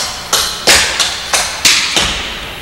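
Tap shoes strike a hard floor in a gallop step, six crisp, close taps in an uneven, skipping rhythm with no voices.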